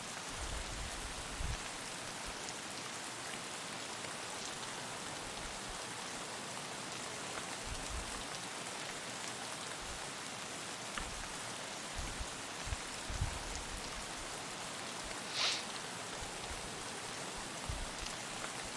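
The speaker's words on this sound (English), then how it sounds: "I hear the rain." Steady rain falls continuously in the game Escape from Tarkov, a soft even hiss of drops with a few louder spatters, no voices.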